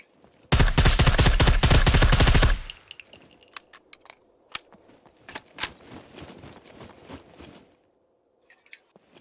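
A shotgun fires repeatedly in the game SCUM: a dense, loud burst of rapid blasts for about two seconds, followed by scattered sharp shots, clicks and footsteps at varying distances.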